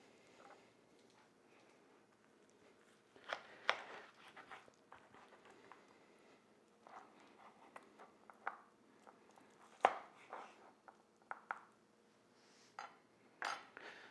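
A knife and fork work through gluten-free BBQ pork ribs on a plate, giving scattered soft scrapes and a few sharper clinks of cutlery, close and fairly quiet with gaps between strokes.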